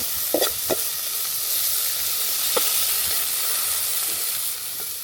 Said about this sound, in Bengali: চিংড়ি মাছটা আমি হালকাভাবে ভেজে নিচ্ছি